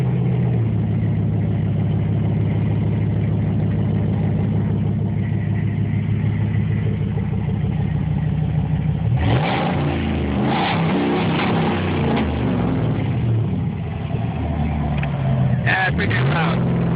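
A 2006 Dodge Ram pickup truck's loud exhaust rumbles at a steady idle, then is revved in sharp bursts that rise and fall, close and heavy with a deep throaty tone.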